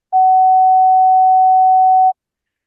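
A pure 750 Hz test tone sounds as a single steady, loud beep lasting about two seconds, starting and stopping cleanly with silence on either side.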